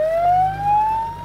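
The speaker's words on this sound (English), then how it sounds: "Siren and all." A siren mounted on a school bus converted into a deer hunting stand in Wisconsin wails in one steady rising sweep, loud and close, with a low engine-like rumble underneath.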